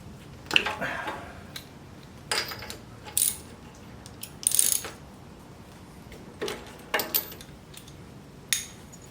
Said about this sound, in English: Go ahead and pop the spark plug out.